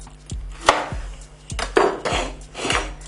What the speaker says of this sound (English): So I'm just going to chop that in half.